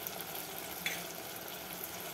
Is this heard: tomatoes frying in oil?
yes